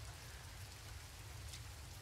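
Rain falls on a farm in the Coral Island farming video game, a faint, steady patter with no talking and a sudden sharp click at the very end.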